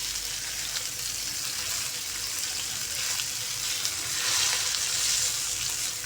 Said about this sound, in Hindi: अच्छे तरीके से ये फ्राई होगी